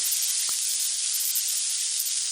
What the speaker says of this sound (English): Now we're just gonna let it sear